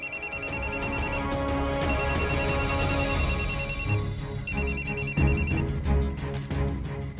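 A telephone rings with a repeated electronic trill that comes in bursts, close and fairly loud over background music.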